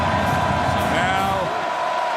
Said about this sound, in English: this big Cal crowd trying to generate some noise at the beautiful ballpark by the Bay